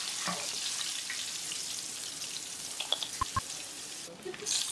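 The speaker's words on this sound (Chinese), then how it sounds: "锅中油温继续升高，放入土豆条，复炸一下。" Potato strips deep-fry in hot oil for a second time, giving a soft, continuous bubbling hiss with a few faint clicks and taps nearby.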